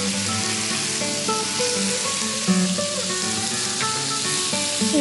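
Shallots sizzle in hot oil in a pan on a home cooking show, a steady loud hiss with crackles running throughout, no voices present.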